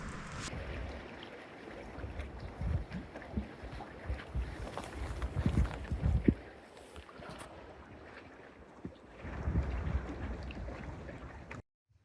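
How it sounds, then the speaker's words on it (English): Strong wind at a lakeside campsite in Algonquin, gusting roar with buffeting against the microphone, rising and falling in uneven surges before cutting off abruptly. "The wind was supposed to let up around 8, but it's still going."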